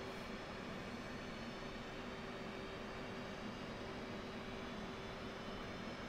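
Jet engine whine of an F/A-18C Hornet's left engine spooling up from off to idle in the DCS flight simulator, a steady loud broadband roar with a faint tonal hum throughout, no talk.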